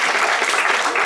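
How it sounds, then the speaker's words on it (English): A crowd at a crocodile attack show at a wildlife park claps steadily and densely, a loud, continuous round of applause with no pauses. "Give him a clap, folks."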